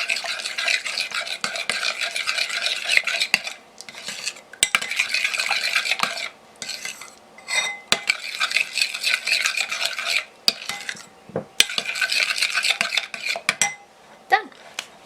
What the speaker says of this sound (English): now we just stir that together.